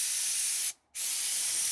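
A newly bought paint sprayer coats a steel lathe stand with a steady, loud, hissing spray that runs on, cuts out briefly for a fraction of a second, then resumes.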